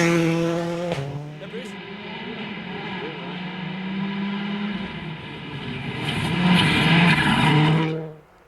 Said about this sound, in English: Bruce McCombie, big slide on the way in.